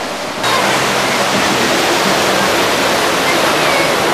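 Floodwater rushing into a house during flooding in Buzău, a loud, steady broadband roar like a waterfall that starts abruptly and continues unbroken.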